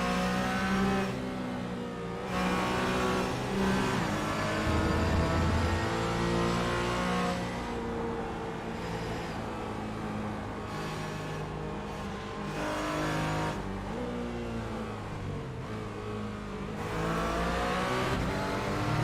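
GT4 and TCR race car engines in a sim racing game at the Clyde's Garden circuit, a Porsche among them, revving hard and shifting through gears, with engine notes rising and dropping as throttle lifts, loud and continuous with no talk.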